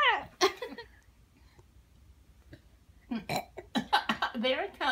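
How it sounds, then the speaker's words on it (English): A toddler of two or three lets out a short burp, followed by hiccup-like vocal sounds. Voices talk and react loudly afterward. "You're a good burper."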